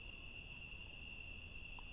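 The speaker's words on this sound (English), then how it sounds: "other than the night creatures, crickets and katydids," Crickets and katydids trill steadily through a still, windless night in a cemetery, a continuous high insect chorus with a faint low background and no voices.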